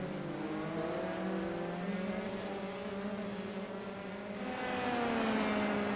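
Dallara F3 race cars lapping the Laguna Seca circuit during qualifying, a steady distant engine drone with rising and falling pitch as cars pass, fairly faint and continuous with no talk.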